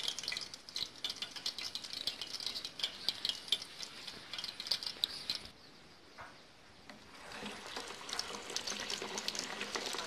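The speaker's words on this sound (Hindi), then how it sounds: "इसी तरह जो हम सारे कबाब हैं वो फ्राई कर लेंगे।" Chapli kebabs sizzle steadily in hot oil in a village-style outdoor kitchen, a continuous close crackle that dips briefly midway before swelling again, with faint clinks of a utensil.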